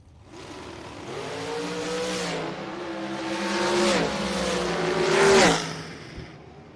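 A Mariner Motorsports dragster roars down the drag strip at a bracket race, its engine a loud sustained howl that rises in pitch across the run and peaks near the end before falling away.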